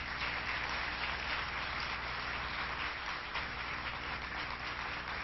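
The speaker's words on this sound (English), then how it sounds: "And let's give him a round of applause." Audience applause at a political event in Albany with the New York governor and a US senator, a steady dense wash of many hands clapping at moderate level, heard from some distance, continuous without talk.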